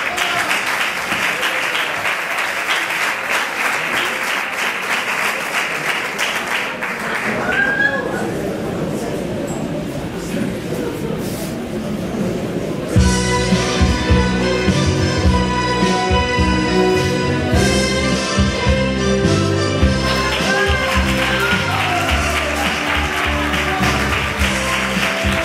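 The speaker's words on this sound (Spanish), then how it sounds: "Yo le ruego un fuertísimo aplauso" An audience applauds for a flamenco singer at a live performance. The clapping is loud and sustained, and about halfway through it gives way to rhythmic handclaps and music.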